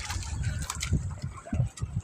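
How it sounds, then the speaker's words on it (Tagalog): Big sea waves slosh against a small boat at sea in a steady, close churning wash with wind buffeting the microphone, and a voice is faintly present underneath. "Lalaki ng alon."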